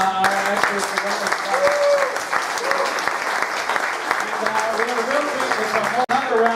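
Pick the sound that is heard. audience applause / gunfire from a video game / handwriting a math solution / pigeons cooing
audience applause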